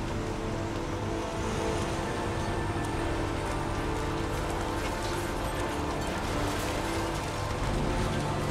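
Steady rain falling over a wasteland crime scene in the video game Heavy Rain, a dense, continuous hiss of drops at even loudness throughout with no talking.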